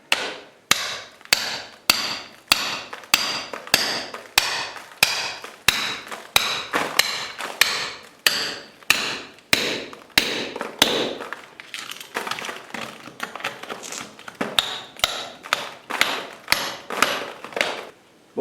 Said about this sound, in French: je commençais à avoir un petit peu marre du marteau et du burin